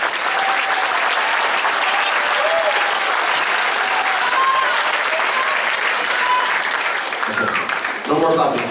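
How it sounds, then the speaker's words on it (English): Audience applause at a school band concert for a student conductor, loud sustained clapping from a crowd that runs steadily, with voices breaking through as it ends. "No more clapping for him, he'll get a big head."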